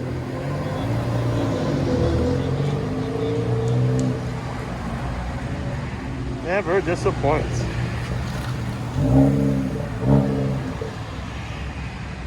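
Ford Focus ST fitted with a Borla S-Type exhaust idles and rumbles steadily nearby, with a few short revs, while people talk over it throughout.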